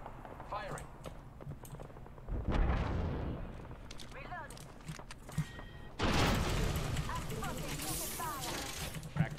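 Gunfire in the video game Apex Legends, with a P2020 pistol loaded with hammer point rounds: a dense burst of loud shots, then quieter sporadic firing, and another heavy sustained volley later, with players talking over it.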